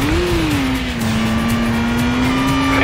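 A car engine drones loudly and steadily through a handbrake turn in the PS2 driving game Stuntman, the pitch dipping slightly then holding as the car swings around, with no talk.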